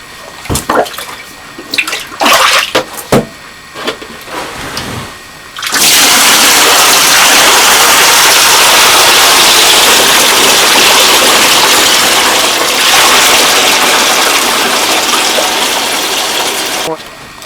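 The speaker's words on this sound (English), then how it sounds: "So now it's time for me to rinse these clothes out." Clothes are rinsed by hand in a bathtub: a few splashes and sloshes at first, then a loud steady gush of running water that fills the rest.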